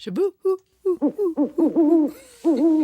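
An owl hooting sound effect: a series of clear, close hoots in uneven rhythm, some short and clipped, others drawn out and wavering, with brief silences between.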